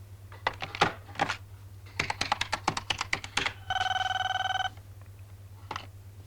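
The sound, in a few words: telephone ringing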